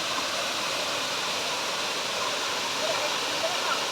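Encantadora Falls, a waterfall, roars as a steady broadband rush of falling water, close and constant for the whole span.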